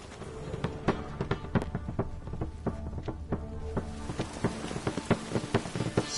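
Steady rain falls over a city in The Witcher 3 video game, with scattered drips and patters on surfaces, quiet and continuous, with no voices.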